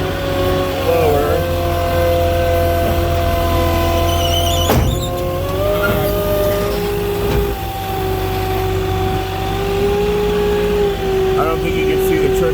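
A forklift's engine drones steadily at close range as it drives and works its forks, the pitch climbing and easing with the throttle while a clunk breaks in near the middle.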